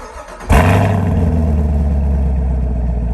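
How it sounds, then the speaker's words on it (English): After a brief quiet moment, a sixth-generation Chevrolet Camaro engine cranks and fires up with a sudden loud roar, then settles into a deep, throaty, burbling idle. "When it's revving out, it sounds really good, and it's got a lot of burbles."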